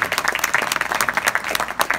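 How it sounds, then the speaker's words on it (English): An audience at a New York state proclamation event applauds, close and fairly loud, with individual sharp claps standing out in a dense, uneven patter. "Yes, applaud for that."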